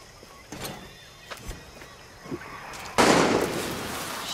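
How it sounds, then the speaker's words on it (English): Scattered gunshots in the Far Cry 6 video game, a few sharp distant cracks followed by a louder, longer burst of fire near the end, with no talk over it. "Shit, who's shooting?"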